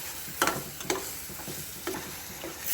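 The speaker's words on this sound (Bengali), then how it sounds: "এই দেখুন ভালো করে নেড়ে নিচ্ছি।" Sesame seeds with chopped green chili are stirred and fried in a pan, with steady sizzling broken by several sharp scraping stirs of a spoon against the pan, close and fairly loud.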